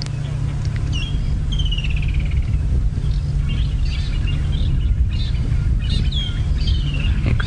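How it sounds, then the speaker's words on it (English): Birds call and chirp around a leopard in the bush at sunset, with several clear whistled calls scattered over a constant low rumble, likely from a vehicle engine. "You can hear all the birds calling around him."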